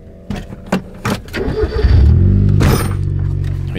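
A Subaru Impreza 2.0R, set for driving on snow, gives a few sharp clicks and knocks, then cranks and catches, its engine rising into a loud, steady, throbbing idle up close.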